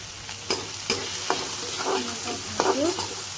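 Ginger and onion frying in a pan, with a steady close sizzle punctuated by sharp scrapes and taps of a spatula stirring every half second or so.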